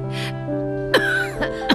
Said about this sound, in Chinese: 你怎么又咳嗽了？